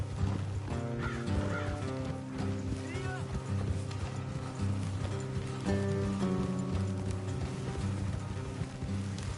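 Horses gallop along a road in Red Dead Redemption 2, a continuous rhythmic clatter of hooves with bird calls, background score and voices over it.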